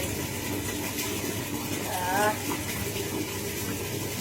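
Water from a tap fed by a freshly started pump gushes steadily at close range, a constant rushing flow with a brief swell partway through.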